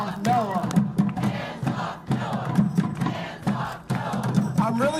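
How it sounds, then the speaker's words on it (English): Large crowd at a rally against NOAA job cuts chanting in a steady repeated rhythm, many voices shouting together outdoors, loud and sustained. "I'm really getting a chance to take in the crowd."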